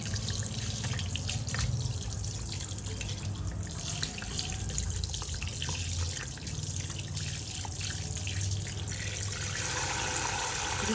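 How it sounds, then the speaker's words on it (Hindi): Tap water runs steadily into a sink while fish are washed one by one in an open pot, with scattered clinks and splashes over the continuous flow, close and fairly loud. "तो सबसे पहले हम फ़िश को अच्छे से वॉश करेंगे"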